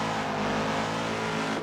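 A Subaru BRZ / Toyota 86 with a swapped engine revs hard, a loud, steady, harmonically rich engine roar held continuously at close range with no voices.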